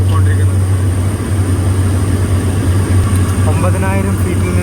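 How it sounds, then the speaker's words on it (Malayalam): Steady, loud engine drone fills an airplane cabin as the aircraft descends toward Harper, Liberia, a constant low roar with a voice speaking over it. "ഏകദേശം ഫ്ലൈറ്റ് താന്നാണ് ഇപ്പോൾ പോയിക്കൊണ്ടിരിക്കുന്നത്"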